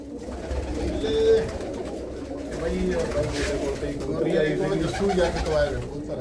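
Pigeons kept by a Punjabi fancier coo in soft, repeated rounds close by, several birds overlapping, with people talking quietly throughout.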